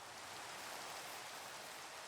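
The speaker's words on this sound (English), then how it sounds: "It's a bit of a shame that it's raining." Steady rain falling, a soft even hiss of drops on surfaces with no distinct rhythm, faint and continuous throughout.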